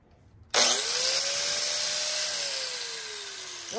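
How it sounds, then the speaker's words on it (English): Flat disc sander smoothing a metal Honda CT70 chainguard, switching on suddenly and then holding a loud, steady high whine with a gently shifting tone as it runs close by. "I'm going to just use a flat disc sander"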